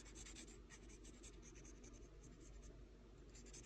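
Pencil sketching Captain America on a small blue Post-it note, a faint, steady scratch of graphite strokes running continuously with no talking.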